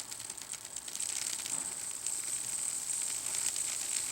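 Tiny gears whir and tick inside an AHM GP18 model locomotive during a wash and lube, a faint, steady mechanical buzz running throughout with no talk.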